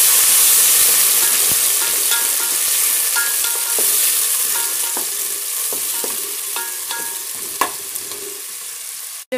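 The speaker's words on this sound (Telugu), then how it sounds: "పుదీనా, వేయించుకోవాలి వీటిని." Mint and vegetables fry in a pan for a restaurant-style veg biryani, a loud continuous sizzle close up, broken by scattered scrapes and taps of a spoon stirring, with a sharper clatter near the end.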